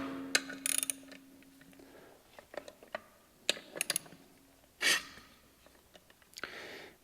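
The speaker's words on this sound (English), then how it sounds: "So all I'm doing is I'm just going to loosen them all up here." Clutch cover bolts being loosened with a hand ratchet during a clutch kit install, giving scattered close metallic clicks and short ratcheting bursts with brief pauses between turns.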